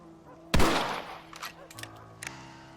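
Rifle gunfire from the western video game Red Dead Redemption: one loud, sharp shot with a long echoing tail, followed by fainter scattered reports and low hum.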